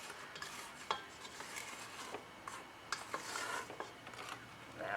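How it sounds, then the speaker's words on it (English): A spatula scrapes around a mixing bowl of meringue with sugar added, giving soft, faint scratching strokes and a few light knocks against the bowl. "I'm just going to quickly have a little scrape around the bowl."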